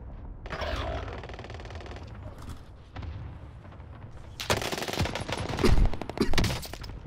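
Bursts of M1928 submachine gun fire in a shooter game, rapid stuttering volleys in separate clusters, the loudest and densest near the end, with faint background game noise and no talk.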